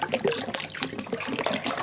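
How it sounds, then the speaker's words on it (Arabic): Cold bottled water poured into a bowl for Egyptian country bread dough, a steady, moderately loud splashing and gurgling flow with no voices. "وكمان هضيف لها ازازه ميه ساقعه"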